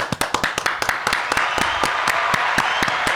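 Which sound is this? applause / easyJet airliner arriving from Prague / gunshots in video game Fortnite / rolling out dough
applause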